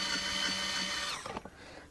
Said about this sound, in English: These little drill things make it so much easier to loosen your guitar strings.